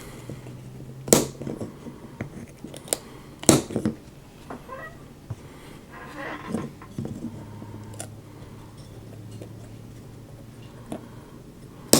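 Plastic parts of a ROKR LK401 tractor model kit snipped off their sprue with cutters, a few sharp isolated clicks spread through a quiet room with faint background hum.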